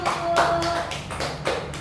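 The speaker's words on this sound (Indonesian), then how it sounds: "beri tepuk tangan dulu untuk kelompok 1" Classroom applause for a student group, a short burst of many hands clapping close by that fills the room, with a few voices mixed in underneath.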